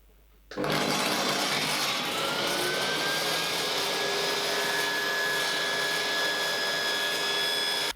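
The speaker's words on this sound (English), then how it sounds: "I should be able to just raise the saw up and cut right through" A table saw blade rises and runs steadily through the middle of a small wooden barrel piece, a loud continuous whine with a sustained tone that holds for several seconds before cutting off abruptly.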